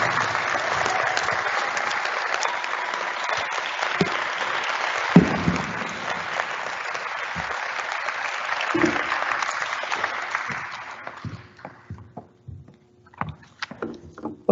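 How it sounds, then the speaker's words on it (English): Audience applause at a university student convocation, a dense sustained clapping that carries for about ten seconds before thinning into a few scattered claps and dying away. "Let's give one more round of applause for Renita."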